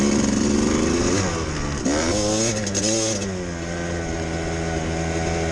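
A Kawasaki KDX200 two-stroke dirt bike runs stock through desert terrain, its engine revving up and down in sharp accelerating bursts with shifting pitch, loud and close, no talking.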